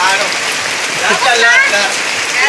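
During an ice bucket challenge, ice water splashes and pours over someone's head in a steady, close rush like heavy rain, while people talk over it.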